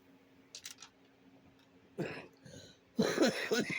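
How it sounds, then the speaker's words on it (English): Two or three short, rough coughs separated by brief pauses, close and fairly loud, with a faint click earlier and no speech. "Excuse me for coughing so much."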